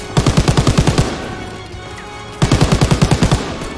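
Two loud bursts of rapid machine gun fire in the World War II shooter Call of Duty WWII, each a dozen quick, evenly spaced shots, separated by a short lull of game ambience.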